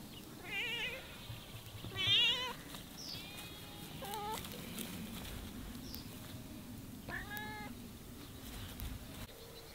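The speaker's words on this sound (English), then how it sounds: "There are a few other cats." Several cats meow repeatedly outdoors on a grazing farm, clear mid-distance calls spread over a soft ambient background, with no talking.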